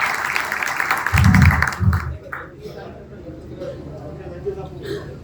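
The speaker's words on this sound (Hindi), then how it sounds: "मैं चाहता हूं कि आप सब तालियां बजाएंगे।" Audience applause at a New Year celebration gathering: clapping from the crowd fills the first two seconds and then fades out, and a voice speaks afterward.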